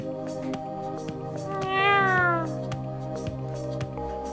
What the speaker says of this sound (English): It purrs and rubs against your hand.